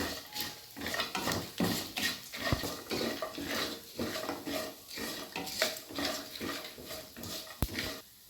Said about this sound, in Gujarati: આ ધીમે તાપે આપણે શેકી નાખીશું.